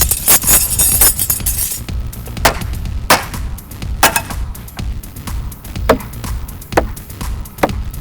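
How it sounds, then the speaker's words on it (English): Butter knives are thrown into an end grain wood target, landing in a string of sharp, loud thuds and clacks spaced irregularly over several seconds, close up with no speech. "What's nice about butter knives is that it has this really thin point that it just digs into any target if you throw them right."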